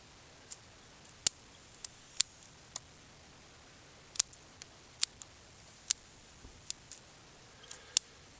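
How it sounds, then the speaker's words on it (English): Small bonsai scissors snip back the foliage of a shohin Gmelina tree, a dozen or so crisp, close clicks at irregular intervals over quiet background. "cutting it all back."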